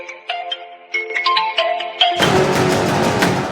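A phone ringtone in a Tamil TV serial plays a bright, tinkling electronic melody of quick repeated notes, then gives way to a louder, denser burst of full-band music near the end.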